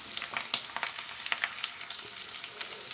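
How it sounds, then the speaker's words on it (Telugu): Thinly sliced onions frying in a pan with ginger and garlic while making korameenu fish puttu, a constant crackling sizzle dotted with quick pops and light stirring scrapes, close and quiet, no voices. "ఈ ఉల్లిపాయలు బ్రౌన్ కలర్ వచ్చేంత వరకు వేయించాలి"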